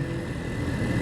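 A motorcycle engine braking at high RPM gives a dense, steady mechanical roar, loud and close, lasting about a second with no voices.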